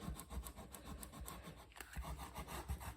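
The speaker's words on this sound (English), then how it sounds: "oftentimes with this tape, that rubbing it like this activates the adhesive" Fingers rubbing firmly back and forth over tape on a handmade multi-pocket junk journal, giving a quick, steady scratchy friction that repeats rapidly and is close and alone.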